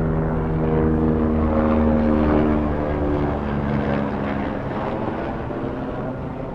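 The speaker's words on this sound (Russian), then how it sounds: "Кстати, вот вертолет летит. Слышно." A helicopter flies over the Nepal mountains on the Annapurna trek, a loud steady rotor and engine drone that fades slightly as it passes, with no talk.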